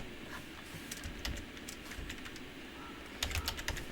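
Fast typing on a computer keyboard while entering a name in the mobile MMORPG Ni no Kuni: Cross Worlds, scattered clicky keystrokes with a quick flurry near the end, close and quiet over faint background noise.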